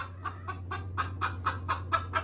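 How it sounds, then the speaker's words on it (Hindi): A hen clucks in a steady run of about nine short, evenly spaced calls, fairly close and clear over a constant low electrical hum. "ये फरमाना था कि मुर्गी फौरन सही सलामत जिंदा खड़ी होकर आवाज निकालने लगी।"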